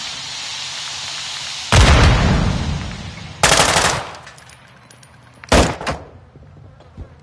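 Several loud, close blasts in a video game shooter, with three separate booming bursts spaced a couple of seconds apart, each trailing off into rumbling debris, over a constant background of game noise.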